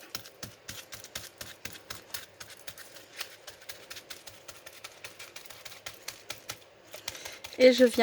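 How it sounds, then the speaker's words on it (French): Crumpled aluminium foil dabbed repeatedly onto a surface to spread gold paint in a craft project, giving a steady run of quick, light tapping clicks close by, louder toward the end. "je prends donc du papier d'aluminium, je le froisse et je viens"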